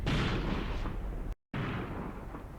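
Gunfire and artillery boom in the WWII tank battle game Graviteam Tactics, heavy dense blasts and rumbling explosions filling the scene, broken by a brief cut to silence before the barrage resumes.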